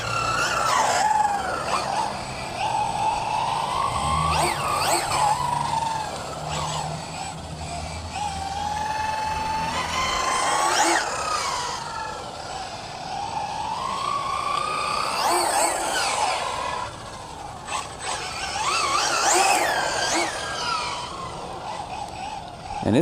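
A HPI Maverick QuantumRX Flux 1/8-scale 4WD brushless RC rally car drives on pavement, its electric motor whining up and down in repeated rising and falling sweeps as it accelerates and slows, fairly close and steady with no talk.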